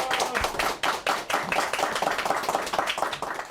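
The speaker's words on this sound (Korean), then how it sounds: "여러분 박수 한번 주시죠." Studio audience in a TV news talk show breaks into steady, lively applause, dense clapping that swells and holds for a few seconds with no voices over it.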